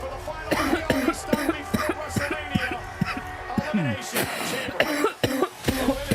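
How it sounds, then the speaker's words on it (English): A cough bursts out amid lively talk and background chatter, with several sharp, abrupt noises scattered through the busy mix. "Delayed cough on that last hit, huh?"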